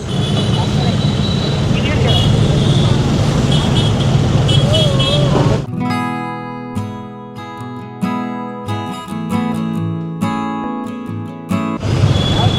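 Loud road traffic with a heavy tractor and trolley carrying a Ganesh idol rumbling past, a horn sounding, then a steady mechanical drone; voices talk over it at the start.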